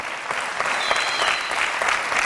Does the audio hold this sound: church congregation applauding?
yes